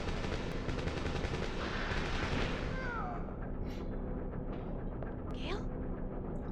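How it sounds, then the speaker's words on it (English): Bursts of rapid gunfire in the video game Dino Crisis crackle over a noisy background, followed by a few sharp whistling sweeps and scattered shots, fairly loud and close. "There was gunfire"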